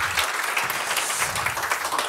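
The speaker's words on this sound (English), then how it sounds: "give this last panel a big applaud" Seminar audience applauding a panel at the close of a tech event, a dense, steady wash of clapping heard alone for about two seconds.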